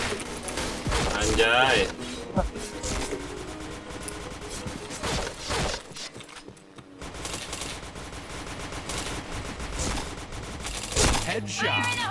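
Rapid gunfire bursts in the online shooter Point Blank, dense automatic fire and blasts running almost continuously with a brief lull midway, while a player talks over the action.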